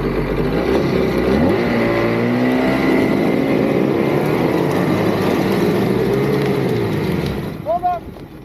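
A vehicle engine roars under heavy throttle during an off-road recovery, a loud sustained drone that drops away near the end.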